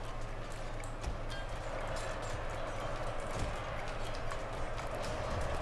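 Riderless horses gallop around a battlefield in Shogun 2: Total War, with a dense, continuous clatter of many hooves at a steady pace over a low rumble and no speech.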